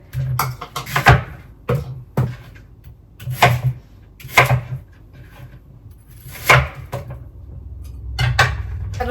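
Knife on a wooden board in a home kitchen, chopping vegetables finely in a run of sharp, irregular close-up strikes with short pauses between bursts.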